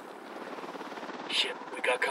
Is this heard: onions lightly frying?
no